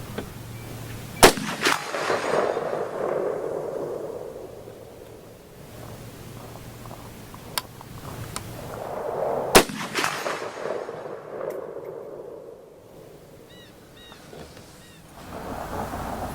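Romanian M56 SKS rifle fired at an outdoor range, three or four sharp, loud shots spaced several seconds apart, each trailing into a rolling echo over wind noise, with no talking.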